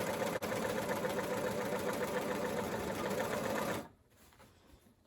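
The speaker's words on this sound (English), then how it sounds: "I'm just keeping it to the outside marker on there and using that as my guideline for sewing round." A sewing machine stitches fabric steadily for about four seconds in a fast, even whirring run, close and loud, then stops abruptly and leaves near silence.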